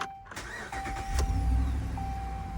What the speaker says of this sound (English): I'll be back to turn the truck on